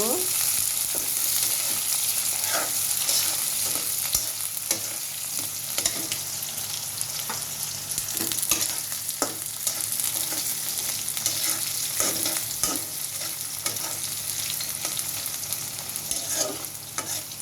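Dried fish (shutki) fries with onions in a pan, a loud, steady sizzle running throughout, broken by repeated scraping stirs and light utensil knocks, with no one talking.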